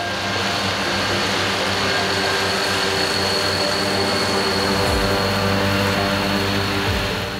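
A Claas mower unit with a 9.10 m working width and a swath merger works a field, giving a loud, steady machinery drone with continuous broadband rumble throughout and no talk.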